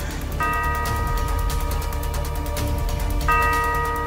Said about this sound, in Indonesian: Kenapa jam itu bunyi terus? Dia gak berhenti-berhenti bunyi.